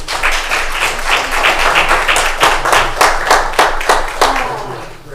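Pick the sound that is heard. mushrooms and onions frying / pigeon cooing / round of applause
round of applause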